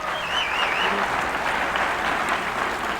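An audience at a 1992 Democratic primary debate claps steadily for a few seconds, a dense, sustained wash of applause with no speech over it.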